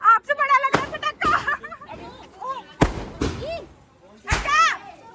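Around five sharp, loud firecracker bangs go off at irregular intervals during a family Diwali night celebration while several people, including children, talk and call out throughout.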